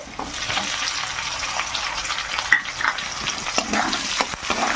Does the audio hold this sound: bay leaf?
yes